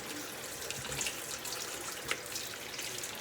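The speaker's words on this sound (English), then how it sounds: "I like to rinse my meat with cold water" Cold tap water runs steadily over raw steak in a kitchen sink. The water makes a continuous splashing hiss with small uneven spatters, fairly faint and with no talking.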